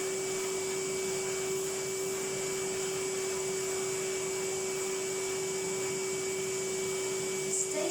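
A vacuum cleaner hoovers a Persian silk carpet with a loud, unbroken motor whine and a steady hiss that carries through the whole stretch, with no voices.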